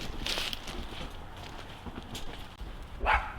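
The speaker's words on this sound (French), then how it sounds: "ce qu'on a pu entendre, c'est un chien" A single dog bark rings out near the end over a noisy outdoor background, with faint scuffing steps earlier.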